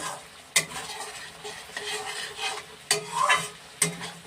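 Lemon chilli chicken is stirred slowly in an oily pan, soft sizzling under repeated scraping strokes and a few sharp clinks of the utensil against the metal rim, close and moderately loud.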